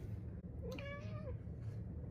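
A house cat lets out a single clear meow over steady low background noise indoors, near the paper towels it is about to knock over.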